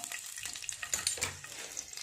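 Garlic cloves and ginger frying in a pan for a Mangalore-style mackerel curry, a steady close sizzle and crackle of hot oil with faint stirring scrapes, no voices.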